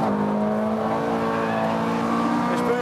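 Ferrari 430 Scuderia with its sequential gearbox on a race track at Exotics Racing in Las Vegas, its engine holding a loud, steady, droning note from inside the car with no break.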